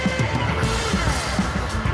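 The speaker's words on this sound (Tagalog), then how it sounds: "mararamdaman mo na yung or maririnig yung tunog ng tensioner." Faulty cam chain tensioner on a Yamaha Sniper 150 motorcycle: a sharp, rapid ticking rattle over the steady idle drone, with faint periodic knocks, loud and close, no talk.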